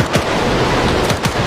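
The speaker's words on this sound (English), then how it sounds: "The organs are firing!" Rocket artillery salvos roar in a World War II battle for Berlin in Arma 3, a loud, thick rumbling blast with rapid whooshing bursts layered over it, close and overwhelming.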